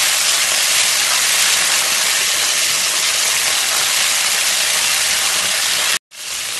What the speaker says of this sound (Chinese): 锅里放油，把这个切好的肉倒下去，把它烤香